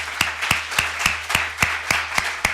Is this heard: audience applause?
yes